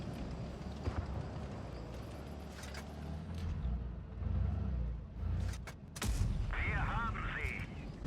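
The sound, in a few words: tank gunfire in video game WoT Blitz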